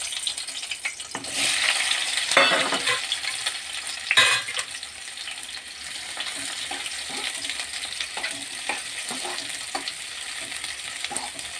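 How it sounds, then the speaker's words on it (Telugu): Bitter gourd pieces dropped into hot oil hiss loudly in bursts at first, then settle into a steady, softer frying crackle with occasional stirring scrapes, close up and without talk. "ఇప్పుడు కాకరకాయ ముక్కలు వేసుకుందాం ఫ్రై చేసుకోవడానికి."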